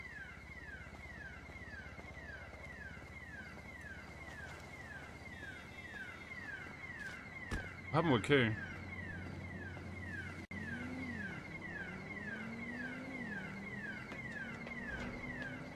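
Car alarm blaring in the GTA game, a repeating rising-and-falling electronic whoop cycling steadily, interrupted midway by a short clatter and a brief spoken question before resuming.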